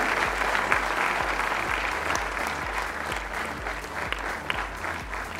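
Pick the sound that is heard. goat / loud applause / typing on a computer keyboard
loud applause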